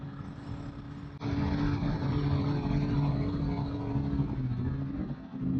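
A BMW M1000XR motorcycle engine with the throttle cracked open gently. The steady low engine drone rises in level after a second and then holds as a loud, continuous hum up close.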